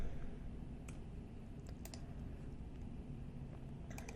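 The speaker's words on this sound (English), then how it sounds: "Now to take this off, I'm right-clicking in the cross-section view" A few sharp, light computer mouse clicks scattered over a steady low background hum, with a quick cluster of clicks at the end.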